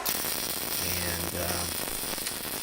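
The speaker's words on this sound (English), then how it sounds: "Here we are welding on the angle to the main plate" Arc welding an angle onto a steel main plate for a climbing-wall bracket, heard as a steady, close crackling hiss with a low electrical buzz that runs unbroken for the whole stretch.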